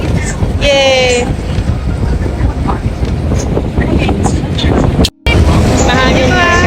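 Strong wind buffets the microphone aboard a river cruise boat near Marina Bay, Singapore, a loud continuous roar with brief cutouts, while people talk over it in bursts.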